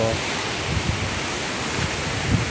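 Strong typhoon wind roars continuously with a dense, rushing noise and low buffeting against the microphone, steady and loud throughout.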